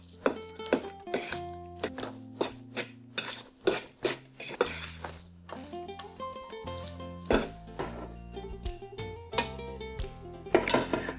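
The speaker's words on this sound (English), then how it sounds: "But we'll just keep stirring it." Garlic egg pasta stirred in a pan, a metal utensil knocking and clinking against the pan in a steady rhythm of sharp strikes, close and clear with no talking.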